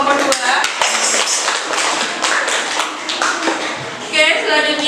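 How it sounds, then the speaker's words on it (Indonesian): Classroom clapping for a student presentation group, a few close, uneven claps and taps mixed with shuffling and voices talking over them. "Kita beri tepuk tangan untuk kelompok 2."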